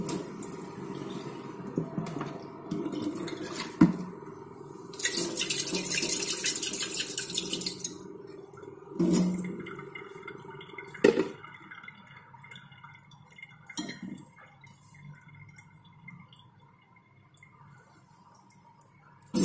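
Lab glassware washed under running water while preparing MS stock solutions, with a short rush of tap water, drips, and scattered clinks and knocks of glass, near and without speech.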